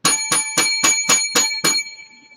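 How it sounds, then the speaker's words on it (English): A bright bell rings seven times in a quick, even series of sharp metallic dings, each one close and loud, with the last ring fading out into silence. "7 lucky bells for this progressive discussion"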